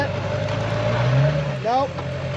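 A pickup truck stuck in mud backs up, its engine droning steadily and rising in pitch as it strains, then easing off, with a brief voice near the end.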